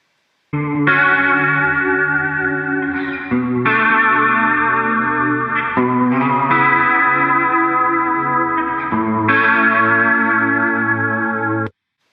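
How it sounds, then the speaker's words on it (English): Electric guitar rings out in long sustained chords, gritty with overdrive and wavering from an analog delay with modulation, a lo-fi tone, four or five chord changes with no talking. "it is running through an overdrive, an analog delay that has a modulation setting"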